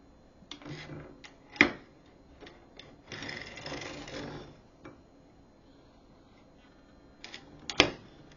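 A circular sock knitting machine being cranked during heel and toe work, with soft mechanical clicks, two sharper clacks, and a short run of whirring gear noise in the middle, all close and fairly quiet.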